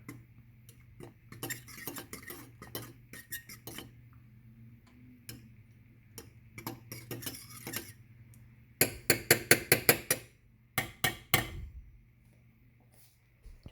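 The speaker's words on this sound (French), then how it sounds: "J'ai brassé un peu les nouilles." Fork stirring noodles in a cooking pot, light scattered metallic clinks and scrapes, then a tight burst of rapid taps against the pot near the end; close, no voices.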